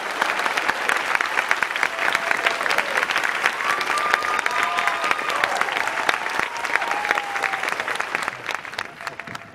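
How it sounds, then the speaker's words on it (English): Sustained applause from a large audience at a gala awards night, steady dense clapping throughout, tapering slightly toward the end. "how about another round of applause"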